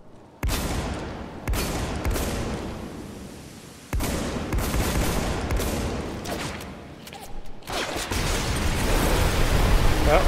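Gunfire in the video game Spec Ops The Line, loud bursts and heavy blasts with abrupt onsets, running into a dense continuous barrage, over a noisy sandy battlefield backdrop.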